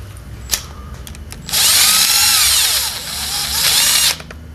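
A power tool whirs loudly as it spins down an oiled head gasket bolt on a Subaru engine, a steady high whine for about two seconds with a brief dip mid-run, preceded by a couple of light metallic clicks.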